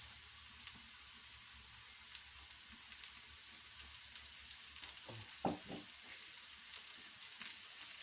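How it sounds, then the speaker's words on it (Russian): Pepper sizzles gently in a hot pan while being fried for Ukrainian borscht, a soft, steady crackle with a few scraping stirs partway through; quiet and close, no speech. "И точно так же его перемешивая, обжариваю"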